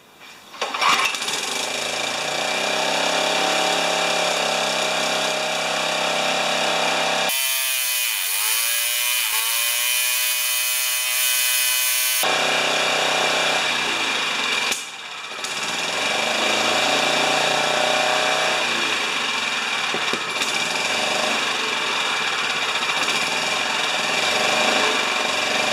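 A Honda HR194 lawn mower engine on choke, its blade not turning, runs with a loud rough clattering roar, cuts out to near silence for a few seconds, then catches and roars again.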